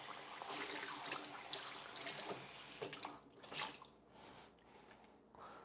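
Tap water runs and splashes while a container is rinsed out, a soft continuous trickle that thins into quieter drips near the end.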